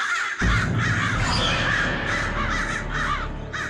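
Crows caw harshly and repeatedly in a loud, continuous stream, several birds overlapping, from a Tenali Rama episode scene where a cow song is being sung.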